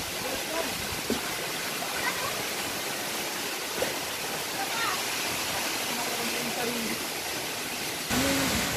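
Hulugan Falls in Luisiana, Laguna pours in a loud, steady roar of rushing water that fills the whole scene, with a few faint splashes and a brief voice near the end.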